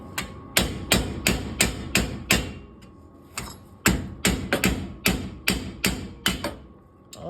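A hammer strikes a chisel on the hub assembly of a 1998 Jeep XJ, giving a series of sharp, close metallic blows in irregular bursts of several quick hits, with a brief pause midway.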